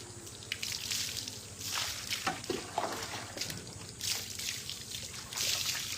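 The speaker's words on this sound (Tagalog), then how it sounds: "Banlaw na lang tayo." Water poured over a child during a rinse after a bath, a soft irregular trickle and splash that rises and falls in short bursts, fairly quiet, with no talk.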